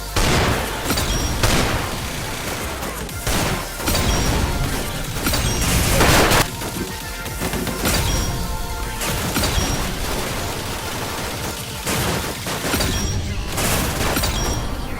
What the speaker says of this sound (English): What a silly shotgun.